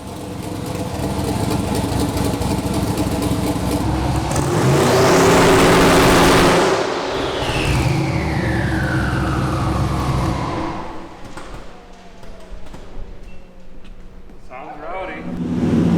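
A Ford race car engine runs close by, idling roughly, then revving hard to a loud peak with a falling whine as it passes, before dropping back to a rumbling idle. Voices can be heard around it.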